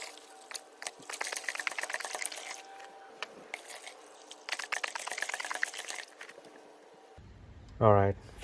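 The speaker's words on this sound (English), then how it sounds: "let me add some hot water to this." Hot water being poured into a large container in a splashing, gurgling stream, pausing briefly and starting again, followed by a short burst of a voice.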